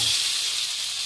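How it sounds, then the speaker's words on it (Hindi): Peeled potatoes frying in a Hindi-style tempering (chhaunk), a steady bright sizzle and hiss of hot oil held close and even throughout, ending in a brief louder clatter. "तो देखिए मैं आलू का छील लिया और आलू का जो छौंका तैयार किया है तो मैं इसमें भून दूँगी।"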